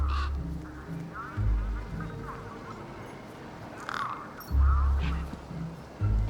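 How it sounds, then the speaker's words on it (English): A large bird honks several times in the video game Beyond a Steel Sky, with loud goose-like calls standing out over a steady ambient game background. "One particularly large and familiar bird stood out from the rest."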